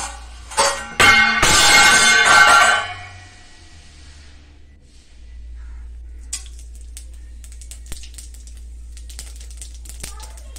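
Mustard seeds spluttering in hot oil for a fig poriyal: a dense, loud burst of crackling pops for a few seconds, then a quiet spell, followed by sparse, fainter pops and clicks.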